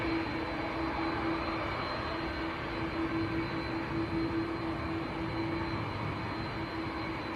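An Aer Lingus airliner departing Manchester Airport for Orlando, a steady, fairly faint jet engine rumble with a sustained whine running throughout, heard alone without talk.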